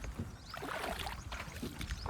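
Oars paddle a small rowboat across open water toward an island shore after a crossing of over 1.5 kilometres, with steady splashing and sloshing close by, alone without talk.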